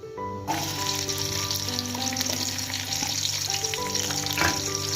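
Onions sizzle in hot oil with cumin seeds in a pot, a steady, loud frying hiss with occasional stirring scrapes, heard alone without any talking.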